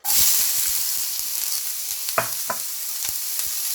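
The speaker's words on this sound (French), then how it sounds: "J'ai remis la poêle à chauffer. Je mets les poivrons maintenant." Bell peppers drop into a reheated pan with olive oil and fry with a steady loud sizzle, punctuated by scattered clicks and stirring knocks, no talking.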